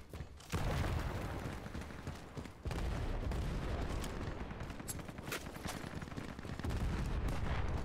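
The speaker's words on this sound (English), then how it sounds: "I'm definitely shooting this guy way more times" Dense, continuous gunfire fills a match of the online shooter Ironsight: rapid overlapping shots and bursts with no pauses, loud and close.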